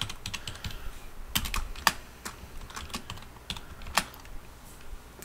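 Rapid keystrokes on a computer keyboard as a Windows command-line command is typed, a close, irregular run of crisp clicks and taps with short pauses and no talking.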